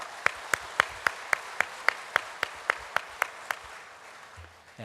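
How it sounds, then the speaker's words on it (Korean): A church congregation claps for its Sunday school teachers with about a dozen crisp, evenly spaced claps in a quick steady rhythm, then the claps stop and a quiet room remains. "이분들에게 감사와 격려의 마음을 담은 뜨거운 박수를 부탁을 드립니다."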